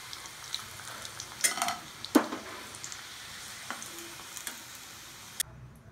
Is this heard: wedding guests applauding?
no